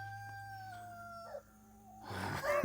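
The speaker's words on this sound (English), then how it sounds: "If you don't like the sounds of roosters, this ain't the channel for you" A rooster crows faintly in the distance, its drawn-out call wavering before trailing off, followed by a rise of rustling background noise.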